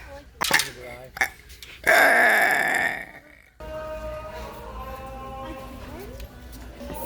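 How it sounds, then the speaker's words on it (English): A young woman's loud, drawn-out burp lasting about a second, preceded by short vocal bursts and followed by echoing store ambience with a tonal hum, heard close inside a Walmart. "Here's my burp attempt."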